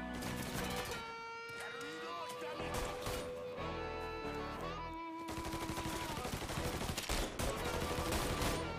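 Gunfire in the video game Mafia III, sharp cracks and rapid bursts mixed with crashes and game noise, dense and loud, with brief pauses between volleys.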